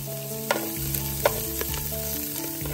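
Garlic sizzling in sunflower oil in a pan, a dense continuous fry with a few sharp spoon taps and stirring clicks over a low steady hum, close and fairly loud.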